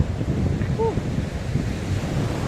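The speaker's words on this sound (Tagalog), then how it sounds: "Grabe yung big waves guys." Big ocean waves roll and crash onto the shore along a Hong Kong trail, a steady broadband wash mixed with wind buffeting the microphone, with a brief voice-like tone.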